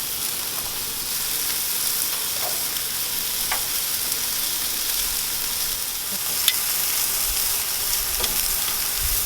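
Chicken kabobs brushed with olive oil sizzle on a grill in a steady, close crackling hiss with occasional sharper pops, and no one speaks.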